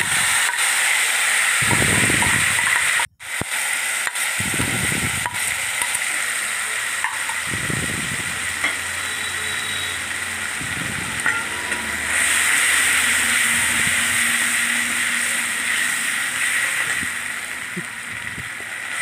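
Onion paste hits hot oil in a pan while cooking morich katla, giving a loud, steady sizzle and hiss that runs for the whole stretch, broken by a brief stir or scrape.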